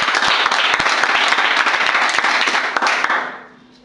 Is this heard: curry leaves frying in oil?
no